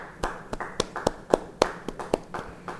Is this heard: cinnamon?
no